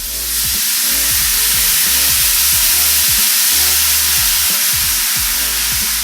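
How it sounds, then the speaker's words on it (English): Sake poured into a hot steak pan to deglaze it, with a loud, steady sizzle and hiss that runs unbroken throughout, close up. "You deglaze the pan with the meat."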